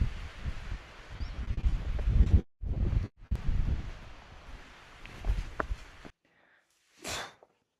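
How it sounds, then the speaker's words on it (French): Outdoor wind on a Sugar Loaf mountain hike gusts and rumbles against the microphone in steady buffeting waves, with brief dropouts, then falls quiet before a short faint hiss near the end. "il y a du vent"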